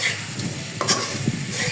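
A curry fries in a pan with a steady, soft crackling hiss and a few light stirring scrapes, heard up close and without talk.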